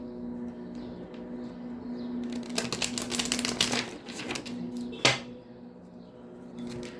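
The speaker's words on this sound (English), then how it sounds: "Let's get you some good shuffles in, Pisces, from the Divine Celestial Tarot." Tarot cards riffle and shuffle close by in a rapid flurry of soft clicks, then one sharper snap, over a faint steady hum.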